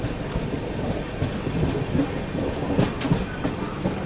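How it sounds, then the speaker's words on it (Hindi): The 22159 Chennai Express rolls into Kalyan Junction with steady clickety-clack of wheels and a continuous rumble of railcars heard from on board. "फिलहाल अपना अराइवल हो रहा है कल्याण पे"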